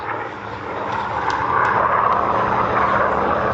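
A WW2 fighter with a Rolls-Royce Griffon inline engine flies past at an airshow, a steady broadband engine roar that swells gradually louder and holds as it passes, without speech.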